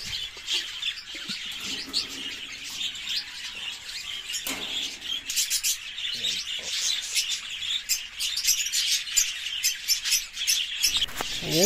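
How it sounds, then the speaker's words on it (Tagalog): Many small caged birds, a batch of breeding pairs being delivered, chirp and tweet continuously and busily at close range, with occasional squawks and wing flutters over a steady bright chorus. "Ayan po, Maminita, yan po lahat yung ibon na i-deliver po natin."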